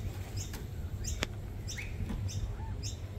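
A pet bird, one with a sore leg, gives repeated short high chirps at a steady rhythm of about one every half second, close by and fairly loud over a low background hum, with no talking.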